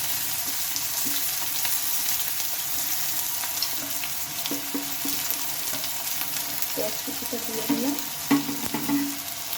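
Onions fry in mustard oil with nigella seeds, giving a steady sizzle, with scraping stir strokes that grow busier toward the end.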